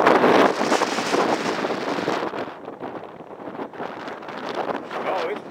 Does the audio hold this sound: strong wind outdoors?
yes